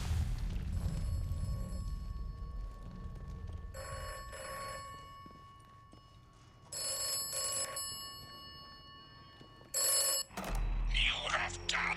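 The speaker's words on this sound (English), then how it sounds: "Telephone ringing, huh?" An old telephone rings in the video game Atomfall, with repeated bell bursts in an uneven pattern over low rumbling game ambience and a few louder thuds near the end.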